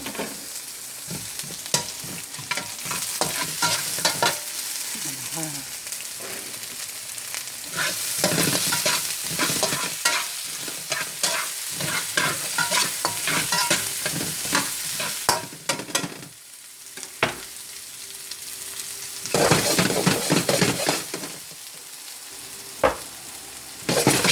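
Onion, ginger and garlic sautéing in a pan, a continuous close sizzle with frequent stirring scrapes and clatters, briefly easing off before the frying surges again.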